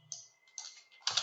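A few soft clusters of computer keyboard keystrokes as text is typed into a business card design, close and quiet, in three short bursts with no voice.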